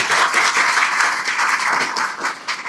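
Loud, dense applause from a crowd at a coaching centre celebrating three Bihar class 10 toppers, a sustained wash of many hands clapping close by for nearly three seconds with no talk over it.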